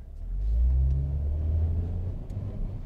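A car accelerates gently on a road, its engine rumble swelling and holding as it gathers speed, heard from inside the cabin with no one talking.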